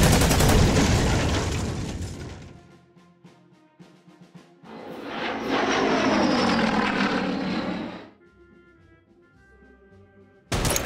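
Aircraft engines drone loudly in the WW2 strategy game Order of Battle, with a heavy propeller roar in two long swells separated by quieter stretches of faint tonal game sound, then a sudden loud burst at the end.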